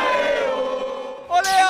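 Portuguesa football fans in a stadium roar and chant together, a sustained loud crowd bellow that swells again near the end.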